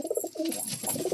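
A high flyer pigeon coos close by in a few soft, rolling bursts, short and low, with no talk over it.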